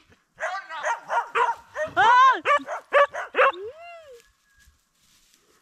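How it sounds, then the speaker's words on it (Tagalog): A dog barks and yips in a rapid close burst of about ten sharp barks that ends in a whimpering whine, followed by a brief startled exclamation and then quiet. "Yung aso."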